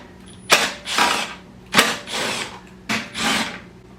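Three short bursts of a ratchet with a flip socket working a 3/8 bolt on a Toro mower, each a quick loud zip followed by a softer whir, evenly spaced and close.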